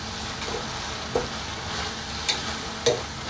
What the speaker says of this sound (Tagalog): Haluin ko siya uli.